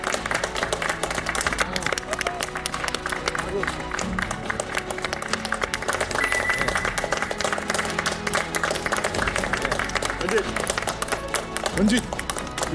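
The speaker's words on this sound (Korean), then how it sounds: "여러분 큰 박수로 맞이해 주십시오." A studio audience at a Korean television talk show applauds to welcome guests, with dense, continuous clapping at steady loudness throughout. Music and some crowd noise sit underneath, and a voice talks over it.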